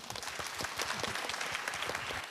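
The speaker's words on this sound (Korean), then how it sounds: "박인선 씨의 강연 큰 박수로 만나보시죠" An audience applauds to welcome a lecturer onto the stage at a coding concert, with dense, steady clapping that fills the room throughout.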